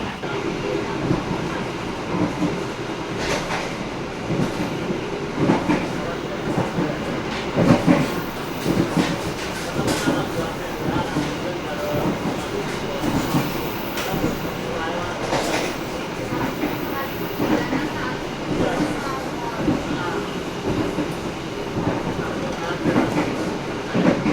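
Inside a KA Jaya passenger train running along the southern line in Indonesia, a steady rolling rumble with rhythmic wheel clatter over rail joints, with a person talking over the noise.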